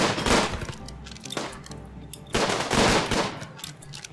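RimWorld combat gunfire comes in three rapid bursts of crackling shots, separated by short lulls of quieter rumble.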